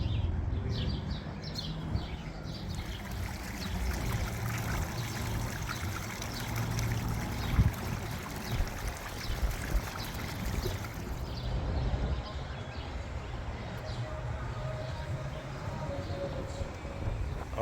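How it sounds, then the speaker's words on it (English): A small waterfall spills into a clear outdoor pond on a windy spring walk in Albuquerque, giving a steady, fairly faint trickle and splash that runs continuously under gusty wind noise. "Always got to check out the nice little waterfall."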